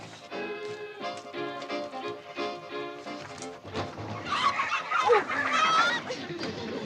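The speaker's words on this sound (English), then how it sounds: "We'll have to ride with a carload of chickens." A carload of chickens squawks and clucks in a noisy, overlapping chorus that swells louder in the second half, mixed with music.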